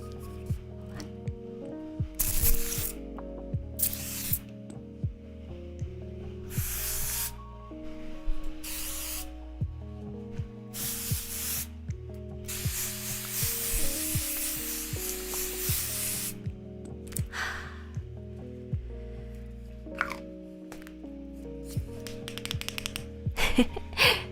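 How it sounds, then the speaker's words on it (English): A spray bottle gives several short, close spritzes at an irregular pace, heard among soft tapping and rustling during a calm, cozy ASMR session. "do you guys want a spritz of this? It's really nice and refreshing."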